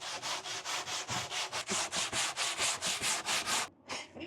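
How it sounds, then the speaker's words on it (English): Wood is hand-sanded on a planter box with steady back-and-forth strokes, about fifteen even rhythmic rasps, close and prominent, stopping briefly near the end. "now it is time to sand by hand"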